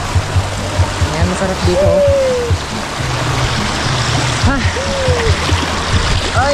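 A river at a tourist spot flows strongly with a steady rushing wash and splashes, while people speak and call out over it at close range.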